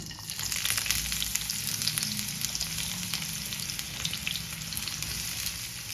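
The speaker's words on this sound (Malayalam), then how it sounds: "ആവശ്യത്തിനുള്ള വെളിച്ചെണ്ണ ഒഴിച്ചു ചൂടായിട്ട് ഇനി കോവയ്ക്ക് ഇട്ട് കൊടുക്കാം" Ivy gourd slices fry in hot coconut oil in a pan, giving a steady, close crackling sizzle throughout with no voices.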